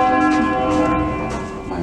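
Church bells rung by hand in a festive concert in Bresso, Milan, sounding as a dense, continuous wash of overlapping ringing tones with sustained harmonics, loud and close, without speech.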